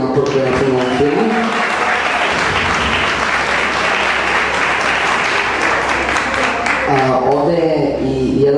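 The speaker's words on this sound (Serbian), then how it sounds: "Sjajan aplauz za ovaj trud i napor koji je film ovom filmu." An audience at a film screening in a cultural centre gives sustained, dense applause that fills the room, with a voice speaking over it at the start and again as the clapping fades at the end.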